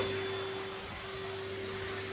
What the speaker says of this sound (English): it's a really good time to run the vacuum cleaner around and just get out the worst of some of this dirt